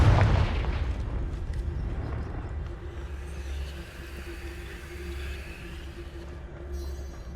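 The Confringo fire-blast spell in Hogwarts Legacy goes off as a loud close explosion, a sharp boom that fades into a long rumbling tail and low ambient drone.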